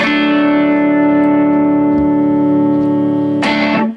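A sustained, gritty distorted guitar chord rings out through a Boss Katana Mini amp, washed in reverb, then a brief strum and abrupt cutoff.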